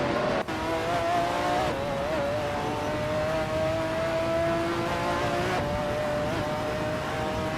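Race cars battling wheel to wheel in a racing video game, loud sustained engine whine with shifting pitch as cars rev and jostle, steady and close.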